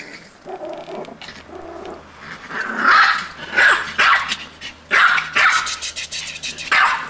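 A dog barks several times close by, sharp irregular woofs mixed with low growls and whines, over quiet background activity.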